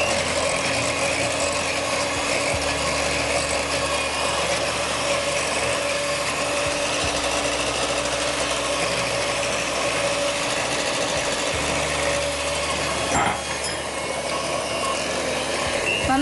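An electric mixer beats chocolate cake batter made with flour, cocoa powder, baking powder and sugar, giving a continuous whirring motor drone with a faint rattle throughout, close and steady with only a brief knock near the end.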